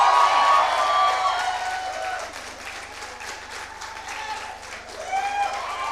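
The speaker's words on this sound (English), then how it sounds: "Big round of applause." Audience applause at a college commencement ceremony, a sustained wash of many hands clapping that eases off midway and swells again, with a voice speaking over the crowd at the start and end.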